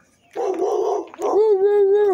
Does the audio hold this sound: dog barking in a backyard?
yes